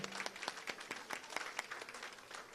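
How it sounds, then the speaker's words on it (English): Audience at a town hall dinner applauds, a dense patter of many hands clapping at once, fairly faint and steady throughout. "Let's give them a round of applause as a thank you for that wonderful dinner."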